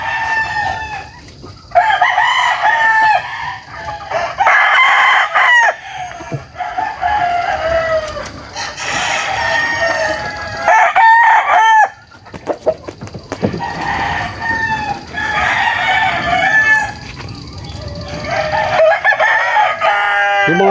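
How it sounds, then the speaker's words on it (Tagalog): Game roosters crowing at Tilaok game farm, several birds calling loudly and close in repeated overlapping crows with clucks in between, across a busy farmyard. "Papakita ko po sa inyo yung ibang mga manok nila."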